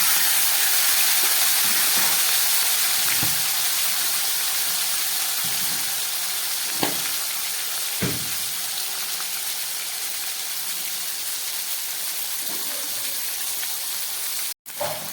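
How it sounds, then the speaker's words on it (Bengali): Salt-and-turmeric-coated rohu fish pieces frying in hot oil give a steady, loud hiss with occasional soft pops and crackles, heard alone without talk. "এই তেলের মধ্যে আমি আরো 2 পিস মাছ নুন হলুদ মাখিয়ে ভেজে নিচ্ছি।"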